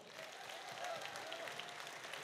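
At a carol and pastoral concert in Vilnius, the audience gives a sustained, even applause for the orchestra soloists, a dense crowd of clapping that holds steady at a moderate level throughout.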